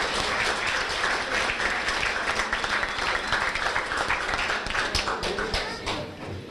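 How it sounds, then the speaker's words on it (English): A high school winter sports banquet crowd gives loud, dense applause for the four booster officers, sustained clapping that tapers slightly at the close, with faint voices underneath. "So how about a nice round of applause for our 4 booster officers."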